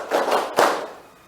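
A classroom of students clapping hands together in a counted clap pattern, a few quick group claps in a short burst, close and moderately loud.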